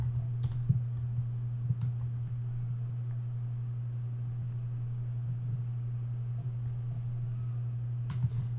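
Soft, close keystrokes tap at a computer keyboard in sparse, irregular clicks over a constant low electrical hum.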